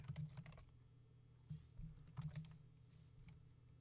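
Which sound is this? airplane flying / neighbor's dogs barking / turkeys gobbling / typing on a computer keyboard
typing on a computer keyboard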